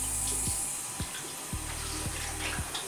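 Lukewarm tap water runs steadily into a sink for face washing, a continuous close hiss with a few soft thumps and splashes as hands move through the stream.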